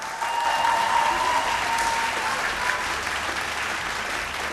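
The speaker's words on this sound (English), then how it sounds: "Ladies and gentlemen, a massive round of applause for Annette Poi Poi." A studio audience at a televised singing competition gives sustained applause for a contestant, a full dense burst that starts abruptly and holds steady to the end, with a faint held tone over it early on.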